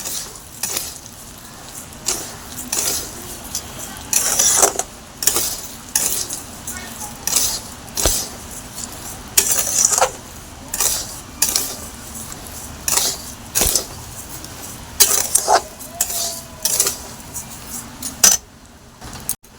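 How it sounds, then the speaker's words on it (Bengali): A spoon scrapes and stirs repeatedly in a pan over a soft background sizzle, with irregular metallic clinks as raw rice is fried and turned for khichuri. "চালটা ভালো করে ভেজে নিতে হবে"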